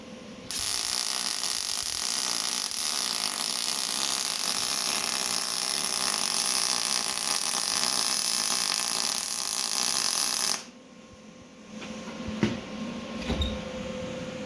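An arc welder buzzes and crackles steadily while joining a shortened driveshaft, a continuous close hiss for about ten seconds, then stops, followed by a few faint clanks.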